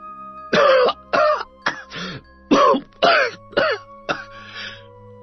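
A man coughs repeatedly in a series of about eight harsh, raspy bursts, close and loud, with short pauses between them.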